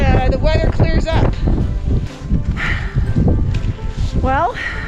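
Strong, cold wind roars and buffets the microphone on a mountain hiking trail up toward a glacier refuge, a steady loud rush that continues beneath people talking.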